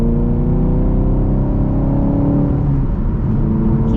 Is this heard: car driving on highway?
yes